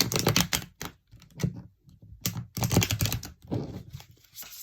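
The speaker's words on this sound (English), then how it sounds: "I'm going to do one more shuffle for you" Tarot cards being shuffled by hand, in quick close bursts of riffling, papery clatter separated by brief pauses, loud and crisp with no talk.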